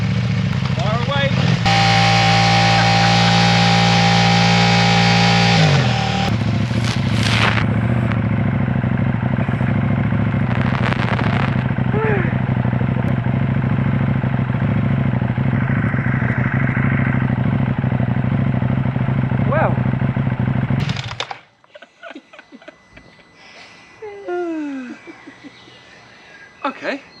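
A KTM Duke 790 motorcycle without its rear hugger runs loud and steady, then cuts away to quieter outdoor clatter with birds; voices talk over parts.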